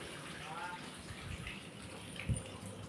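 Water runs from a household tap as a steady broadband rush, with a brief low thump near the end and faint voices in the background.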